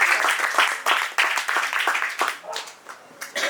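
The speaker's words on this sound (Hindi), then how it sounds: "भैया ऊपर ताली जोर से" An audience at a Hindi kavi sammelan poetry event claps in a loose, uneven burst of applause, moderately close, swelling and fading over a few seconds.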